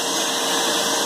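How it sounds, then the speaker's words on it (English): A vacuum cleaner runs in a steady, loud, unbroken roar from start to finish. "So there's our vacuum cleaner."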